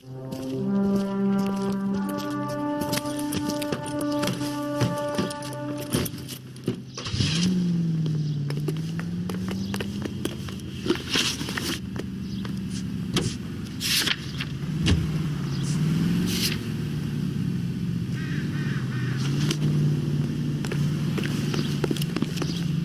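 A car driven in the video game L.A. Noire, with an engine hum that rises and falls steadily throughout, broken by scattered clicks and knocks, after a few seconds of layered tonal game sound at the start.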